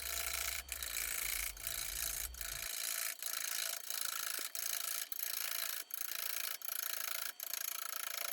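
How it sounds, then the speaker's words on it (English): A bowl gouge makes push cuts on a crotch wood piece spinning on a lathe, a continuous close scraping hiss broken by regular rhythmic dips as the tool meets the uneven grain once per pass. "I'm just using push cuts with a bowl gouge, and as you can see, the cuts are from inside to outside to follow the grain."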